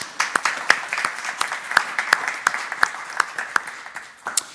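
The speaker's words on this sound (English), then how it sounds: "let's give her a round of applause one more time." Applause at an honors evening event, a scattered round of claps with sharp separate hits rather than a dense roar, moderately loud and steady across the clip, with no talking over it.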